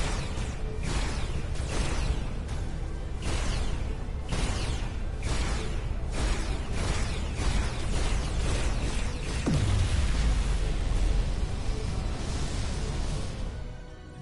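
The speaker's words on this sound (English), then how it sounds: "Dilithium explosion." A dilithium crystal explodes in the sci-fi game Star Trek: Resurgence, a loud, dense rumble of bursts and crashes across the whole clip, with a deep falling boom near the end as the blast peaks.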